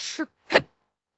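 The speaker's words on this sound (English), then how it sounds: "that was a hiccup." A single hiccup, a short sharp breathy catch followed by a brief burst a moment later, close and fairly quiet, with silence after.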